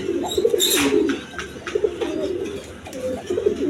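Several quality pigeons kept for sale coo steadily close by, overlapping low throaty calls in a repeating pulse, with a brief rustle or flutter early on and no voices over them.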